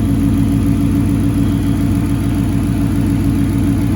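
A Coyote-swapped car engine with a new Dakota Digital VHX gauge install idles steadily and close, a loud, even low rumble with a fine regular pulse and no talking over it.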